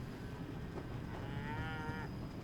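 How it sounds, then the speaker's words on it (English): A cow in the Train Simulator Classic game moos once, a drawn-out, distressed-sounding low that rises and falls over about a second, heard faintly over a steady rumble of background noise. "That sounds like a very distressed cow."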